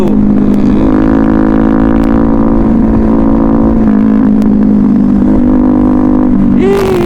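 A Suzuki Gixxer motorcycle on the road pulls hard with a loud, steady, close engine drone and a slight pitch shift near the end, with wind noise and no clear speech.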